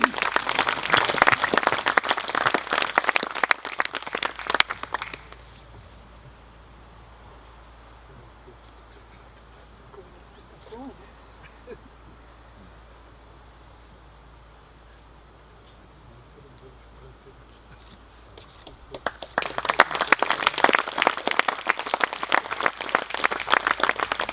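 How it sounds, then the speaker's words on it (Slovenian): An audience applauds a prize winner at a chemistry institute's 75th anniversary event, two loud bursts of clapping framing a quieter stretch of room noise. "lahko ga še enkrat pospremite z aplavzom"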